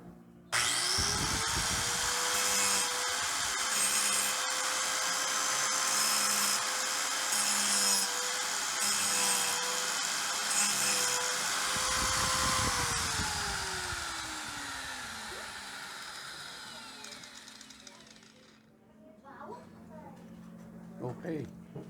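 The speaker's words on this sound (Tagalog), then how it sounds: "atin pong testingin itong grinder" A new Zekoki ZKK-5100DG angle grinder is switched on and tested, spinning up to a loud, steady high whine that holds for several seconds, then spins down and fades as the motor winds to a stop, with some light handling noise after.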